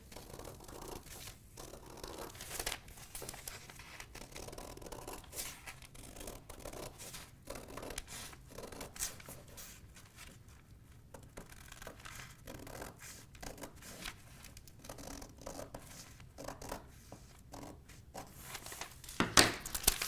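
Scissors cutting out a paper sewing pattern traced from a pattern block, heard as steady close snipping and paper rustling that continues throughout, with no talking.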